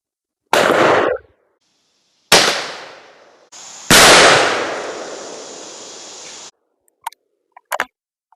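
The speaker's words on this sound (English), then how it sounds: "we're going to shoot these loads and see what we get." Three loud, sharp 20 gauge shotgun blasts firing Winchester Super X game loads at a target, each with a fading echo tail, the last ringing longest, followed by a few faint clicks and clatters.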